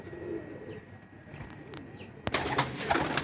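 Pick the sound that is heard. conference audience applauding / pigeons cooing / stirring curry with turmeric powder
pigeons cooing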